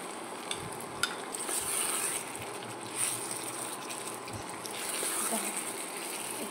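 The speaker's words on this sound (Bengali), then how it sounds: "এইভাবে 5 মিনিট ভেজে নেব" Chicken pieces fry with spices in a pan, a steady low sizzle with occasional stirring scrapes and soft pops, fairly quiet and close.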